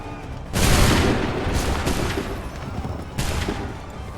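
Massed musket volleys in Assassin's Creed III Remastered crash out as loud, sustained booming gunfire, with a second volley following after a brief lull.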